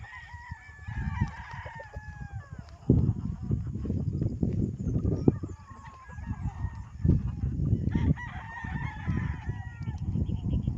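Several roosters crow repeatedly on a farm, layered over one another, with clucking and general farmyard noise underneath and a faint voice now and then.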